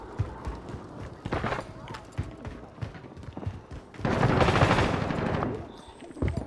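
Bursts of automatic gunfire and single shots crack through a Call of Duty: Modern Warfare match, rapid and uneven, with a louder sustained volley near the end, while players talk over the action.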